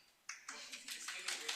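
Students in a classroom clap their hands in a brief, faint, scattered burst of overlapping claps lasting just over a second, with a few voices mixed in.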